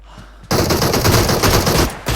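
Loud, close automatic gunfire from a weapon in PUBG Mobile, a continuous rapid burst lasting well over a second after a quiet start, with a brief gap before shooting resumes.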